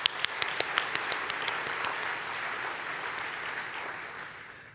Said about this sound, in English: I think we give her an applause anyway